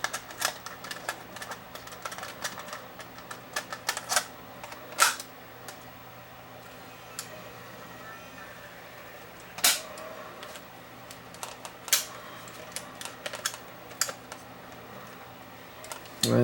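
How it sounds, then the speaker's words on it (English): A Sony CCD-TRV138 Hi8 camcorder with a faulty tape compartment takes a cassette, giving scattered mechanical clicks and clunks over a steady low hum, fairly close, with a few sharper snaps. "I'll load a tape and see if it plays my tape"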